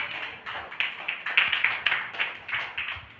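A church congregation claps hands together in a loud, rhythmic, slightly uneven beat, roughly two to three claps per second, close and sustained with no talk over it.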